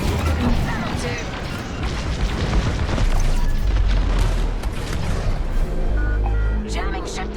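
A jamming ship blows apart in a Star Wars: Squadrons space battle, heavy booming explosions and rumbling crashes sounding loud and close while voices speak over them.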